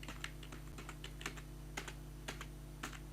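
Keys clatter in irregular bursts on a computer keyboard while an HTML link is written, close and fairly quiet over a steady low electrical hum, with no voices.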